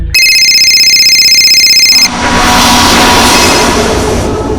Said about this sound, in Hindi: और आखिरकार भावेश का फोन फिर बजा।